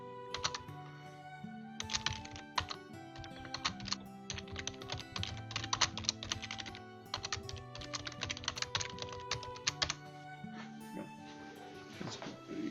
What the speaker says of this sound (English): With my loud keyboard.